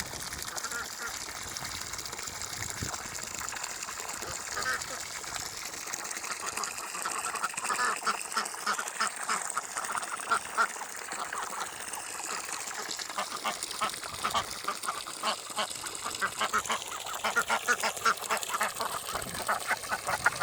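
Ducks quack repeatedly in a busy stream of calls, some raspy and nasal like a drake, with a person talking faintly underneath and water nearby.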